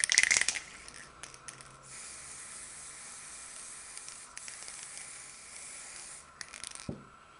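Aerosol can spraying chrome paint onto a G1 Transformers toy, a steady close hiss running for several seconds with brief bursts at the start and end.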